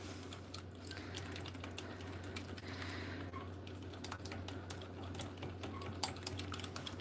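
Fish finger batter being whisked in a bowl by hand, with quick, steady scraping taps running throughout at a low, even level and no voices.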